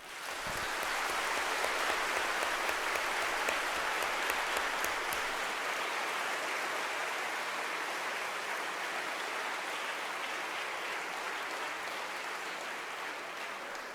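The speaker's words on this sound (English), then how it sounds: "Please join me in applauding them." A large audience at a law school welcome event applauds the incoming LLM and SJD students, a sustained, even roar of clapping lasting many seconds with no talk over it.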